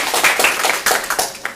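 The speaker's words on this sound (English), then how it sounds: "Give them a round of applause, folks" Short burst of audience applause after a student business presentation, a few seconds of mixed, fairly close clapping from a small group.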